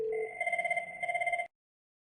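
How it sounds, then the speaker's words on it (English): A mobile phone rings from a Cisco CUCM Mobile Connect call, giving a clear electronic warbling ringtone in two quick bursts before it stops abruptly into silence. "Right here, it's ringing his mobile phone."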